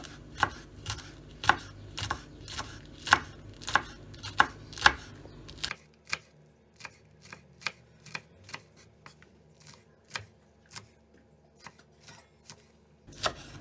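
Rapid knife chopping of green peppers on a cutting board, a steady series of sharp taps, louder at first and then lighter and quicker, with no talking.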